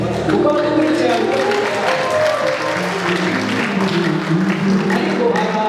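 An audience applauds at a gospel choir appearance on a televised Christian music programme; the dense, continuous clapping runs through the whole stretch, blended with voices and tonal music.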